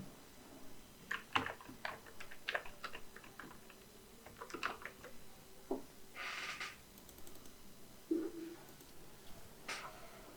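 Sparse, quiet clicks of typing on a computer keyboard, irregular keystrokes in short bursts with pauses between them and a faint background hum, no talking.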